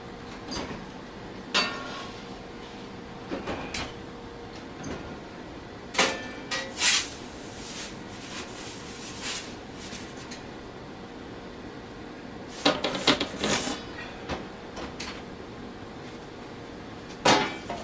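An oven door handled as a stuffed crust Sicilian pizza goes back in to bake, with several sharp clanks and metallic rattles spread across a quiet background, the loudest bursts coming in clusters.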